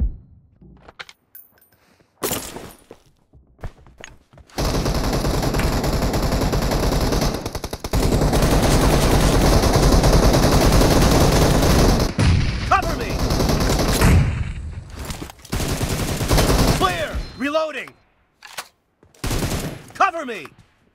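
Gunfire rattles through a PUBG match in long sustained automatic bursts, loud and close, broken by a few short single shots and quieter gaps where a voice briefly speaks.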